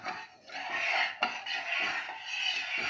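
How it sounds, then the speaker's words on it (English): A spoon stirs sugar into a beetroot and corn pudding mixture, giving soft, close scraping and rubbing with a light clink partway through. "Keep on stirring till the sugar dissolves."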